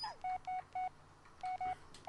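Touch-tone phone dialing in the Blair Witch video game: a series of short, evenly clipped keypad beeps, three in a quick row, a pause, then three more, fairly loud over a quiet hum.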